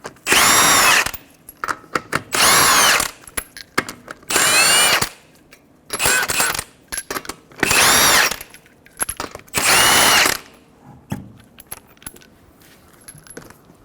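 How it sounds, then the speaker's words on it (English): An impact power tool removes 21mm lug nuts from a 2014-2019 Toyota Highlander wheel, giving six loud, short rattling bursts separated by pauses, with faint metallic clinks of nuts and sockets in between. "Remove your 5 21mm lug nuts."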